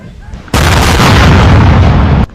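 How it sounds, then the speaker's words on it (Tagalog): Artillery fire and explosions from fighting between Thailand and Cambodia near Sisaket Province, a loud sustained roar of blasts and rumble lasting almost two seconds after a quieter start, with no talk over it. "Ang Thailand naman gumamit ng artillery o malalaking baril na ginagamit sa giyera."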